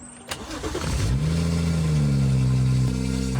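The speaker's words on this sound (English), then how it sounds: "I gave the car a bit of a start just to prime the system" A BMW car engine cranks and starts after a short click, then settles into a steady, loud idle with a clear low hum.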